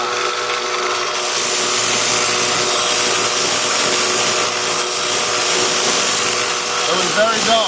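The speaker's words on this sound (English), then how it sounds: "So I gotta grind it to get it in." A grinder sharpens a dull AK47 bayonet with a loud, continuous abrasive whine and rasp up close that holds steady for several seconds.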